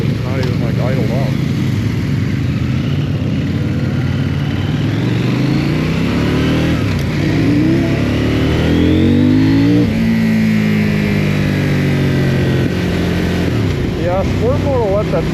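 A CF-Moto 800NK motorcycle engine revs and pulls hard through the gears, its pitch climbing and dropping in sweeps, loud and close beneath a rider talking over it.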